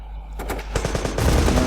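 Machine-gun fire from the video game Terrorist Takedown rattles in rapid bursts of shots that overlap and grow denser and louder toward the end, heard alone with no talking.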